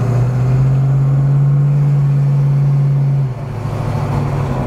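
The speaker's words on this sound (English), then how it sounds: "Good deep note to the exhaust," A 1970 Ford Mustang Mach 1 cruises with the windows down, its deep, steady exhaust drone loud and close, settling to a lower tone near the end.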